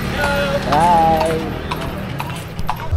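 A horse pulling a carriage in a festival parade in Plaridel clip-clops with rhythmic hoof strikes close by, mixed with crowd noise and a voice calling out over it.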